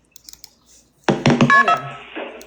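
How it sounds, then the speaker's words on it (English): Telephone dialing tones sound during a phone call: a few faint, quick tones at first, then a louder burst of mixed electronic tones and clicks close on the line. "you can hear them say the same thing in the same phone call"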